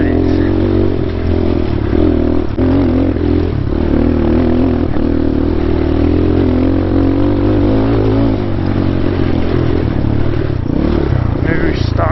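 Dirt bike riding the Hobble Creek Canyon single track trail in Utah, its engine droning loud and steady throughout with revs rising and falling and clatter from the rough ground, close to the rider.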